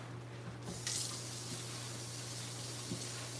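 Food being rinsed under a running kitchen tap, a steady, fairly quiet hiss of flowing water with a low hum underneath and a couple of faint knocks.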